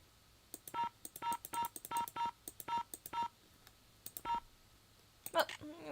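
Touch-tone telephone keypad dialing in the Nancy Drew game The Haunted Carousel, a quick run of about ten clear DTMF beeps in irregular bursts, followed by a brief higher electronic chirp at the end.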